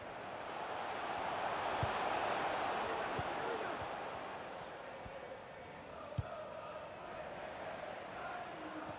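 A stadium crowd in the FIFA 23 football video game roars in a broad, steady wash that swells and fades, with a ball struck now and then and commentary playing over it.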